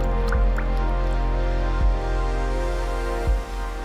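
Amul fresh milk is poured for a caramel custard pudding, a short liquid pour with a few drips and glugs, close and fairly quiet.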